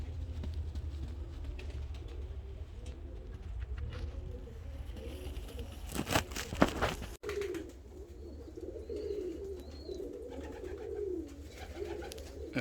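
Fancy show pigeons coo softly in a loft, low repeated calls under a steady background hum, with a brief burst of louder fluttering or handling noise midway.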